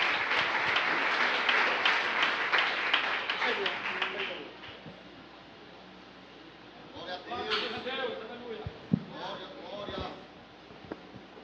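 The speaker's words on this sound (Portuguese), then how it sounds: "Uma salva de palmas para Jesus." Congregation applause at a church worship service, a dense burst of clapping for the first few seconds that fades, then scattered claps under a voice talking.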